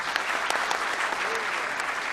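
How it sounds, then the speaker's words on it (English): An audience at an academic conference claps steadily in warm applause, a dense patter of many hands at moderate volume. "Please welcome him with a huge round of applause."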